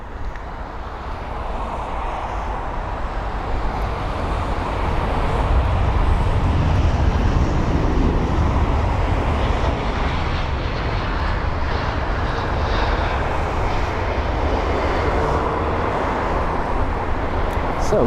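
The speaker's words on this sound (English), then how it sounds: "So the TAP Air Portugal A321neo that just arrived from Lisbon is heading our way." A TAP Air Portugal Airbus A321neo, just arrived at London Heathrow from Lisbon, heads closer with a continuous jet engine rumble that grows slightly louder midway and stays steady.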